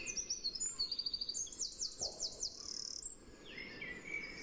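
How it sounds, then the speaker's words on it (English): A wren sings in a sheltered spot, with rapid, bright trills and chattering phrases, fairly close, over windy outdoor background noise. "that's a nice wren"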